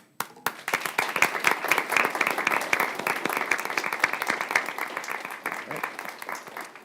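Applause for award winners at a Kingsport Board of Mayor and Aldermen city meeting, a steady crowd clapping that starts abruptly and carries on throughout, with some faint talk underneath.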